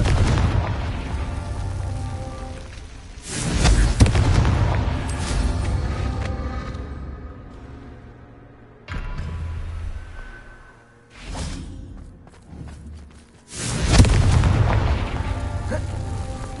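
A Confringo explosion spell in Hogwarts Legacy, the fire spell cast as several loud booming blasts with whooshes, separated by quieter stretches, with no speech.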